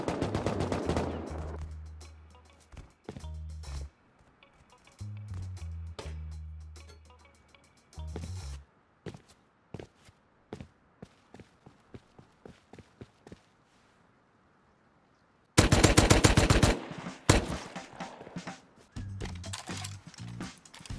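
Video game gunfire in bursts: short rapid volleys of shots with quiet gaps and scattered single cracks, then a sudden loud close barrage near the end, with no talk.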